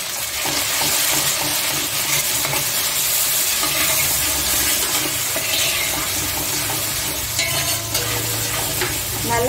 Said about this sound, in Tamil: நல்லா எண்ணெயில் அது ஒரு நிமிஷம் வெங்காயம் தக்காளி கொஞ்சம் வதங்கின உடனே மஞ்சள் தூள் சேர்த்துக்கோங்க